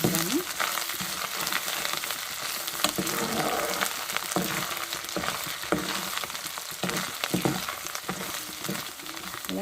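Amla and tomato pickle fries in a pan, a steady close sizzle with scraping stirs of a spoon cutting through at intervals, no talk.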